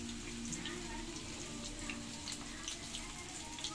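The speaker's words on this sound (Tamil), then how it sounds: "இப்போ விரைவு வச்ச காலிஃப்ளவரை கொதிச்ச எண்ணெயில் போட போகிறோம்" Cauliflower pieces frying in hot oil, with a soft, continuous sizzle and light crackling under a person talking.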